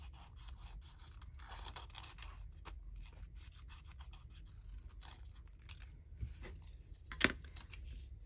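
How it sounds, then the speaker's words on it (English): Scissors cutting thin glassine paper at close range, a steady series of soft rasping snips and rubbing strokes with one sharper click near the end, alone without talk. "I could even use the big scissors."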